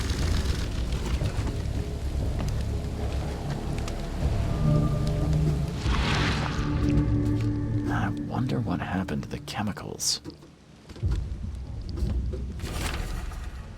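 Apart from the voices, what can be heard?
rain and thunder storm in video game The Sinking City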